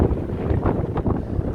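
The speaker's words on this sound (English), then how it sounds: "Oh, it's windy." Gusty wind on a track beside a beach in Yorkshire buffets the microphone in low, uneven rumbling bursts, close and fairly loud, with no voices.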